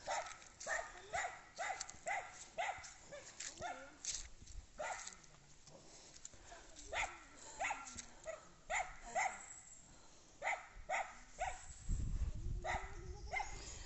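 A dog barks repeatedly in quick bursts, fairly close, with short pauses between volleys and some whimpering yips.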